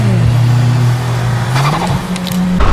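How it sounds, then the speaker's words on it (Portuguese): Mitsubishi Lancer with a manual gearbox and a V8 engine accelerates hard, its loud engine tone rising and falling close by with a brief tire squeal. "É um V8."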